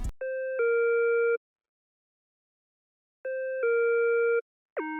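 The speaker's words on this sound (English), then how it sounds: "Next, I will also have a square lead, and it sounds like this." A plain square-wave synth lead from Serum plays short sustained notes, each stepping down in pitch, separated by silence, then a final brief note.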